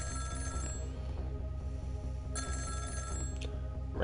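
A telephone ringing in the video game Ghost Trick: Phantom Detective, a repeated electronic bell-like ring pulsing in rapid bursts over a steady game music backdrop.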